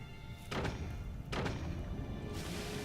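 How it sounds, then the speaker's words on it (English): Mortar shots in the Forts strategy game come as two heavy, muffled thumps about a second apart, fairly faint, with a steady low background hum and no talk. "Should probably keep firing those mortars"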